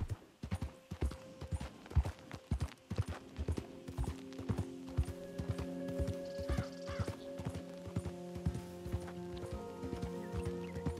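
Horse hooves clip-clop steadily in Red Dead Redemption II as the mount travels along a path, close and rhythmic, with light music and faint ambient tones building behind the footfalls.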